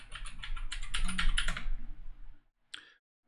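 Rapid, close keystrokes on a computer keyboard while logging into an Ubuntu server over SSH, fading into silence before one final single key press.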